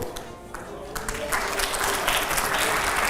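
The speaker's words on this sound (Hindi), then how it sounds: "बहुत जोरदार तालियां होनी चाहिए" Studio audience at a televised debate breaks into sustained applause, clapping swelling after a brief quieter moment and holding steady, dense and fairly loud throughout.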